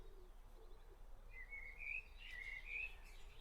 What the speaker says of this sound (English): I do indeed have birdsong on as background music.